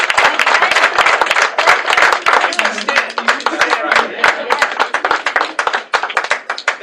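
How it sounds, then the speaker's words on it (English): A gathering celebrating a student's admission to Yale breaks into a round of applause, loud, dense clapping with sharp individual claps standing out and a voice heard briefly among it, tapering toward the end. "Please give Ibraheem a big round of applause"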